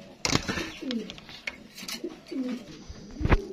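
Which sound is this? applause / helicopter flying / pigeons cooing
pigeons cooing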